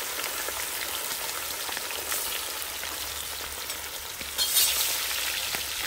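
Meat frying in a pan for a pilaf or kebab meal, a loud, dense, steady sizzle with crackling spatters close to the pan and a brief louder burst near the end.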